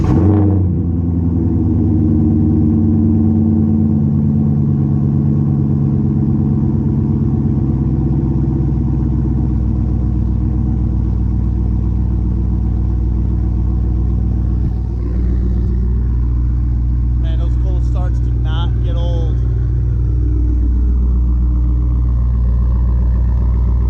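A C5 Corvette V8 fires up cold with a sharp start and settles into a loud, steady, rumbling idle that holds throughout, with a few faint clicks partway through.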